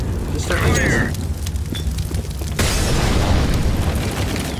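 An incendiary grenade thrown on the Inferno map in a first-person shooter gives a loud, sustained roar of fire and blasts that swells partway through, with gameplay noise continuing underneath.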